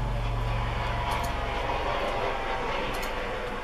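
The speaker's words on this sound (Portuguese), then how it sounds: "Vai passar um helicóptero aqui, a gente vai ouvir porque eu tô gravando da câmara hoje." Helicopter passing overhead, a loud continuous low rotor and engine roar that fills the whole stretch steadily, heard alone with no talking.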